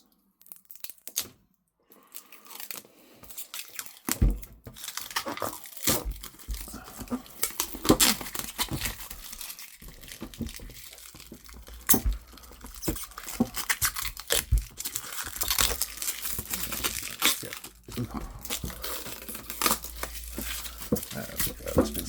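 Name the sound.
cellophane wrapping being crinkled and removed from Dalek parts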